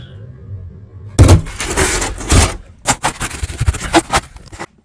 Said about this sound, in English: First thing is we're gonna remove this drywall.